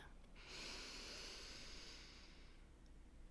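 A slow, steady inhale through the nose during a guided meditation breathing exercise, a soft airy hiss that swells and holds for a few seconds, close and quiet.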